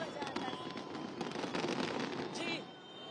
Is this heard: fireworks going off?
yes